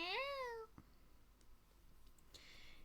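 A house cat sitting on a desk gives one clear, rising-then-falling meow at the start, followed by quiet room sound with a few faint clicks and rustles.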